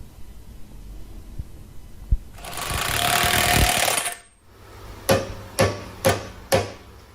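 Four sharp metallic hammer strikes in an even rhythm, close by, following a burst of broadband noise and a couple of earlier knocks.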